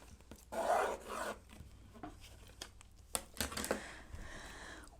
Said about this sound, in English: I'm drawing my 1/4 inch seam